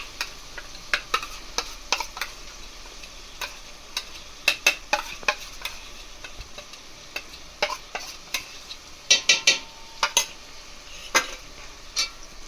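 Tomato and red chili paste for pav bhaji are sautéed in a pan, with a soft steady sizzle under repeated sharp clicks and taps of a spoon stirring against the pan, close by and without talking.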